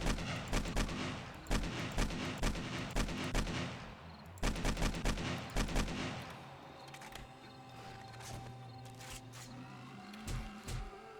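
Gunfire in the video game 7 Days to Die: bursts of rapid, close, sharp shots for several seconds, a brief pause, then more scattered shots under a humming game background.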